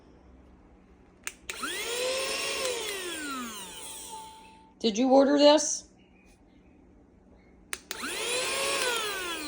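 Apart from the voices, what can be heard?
mini vacuum cleaner running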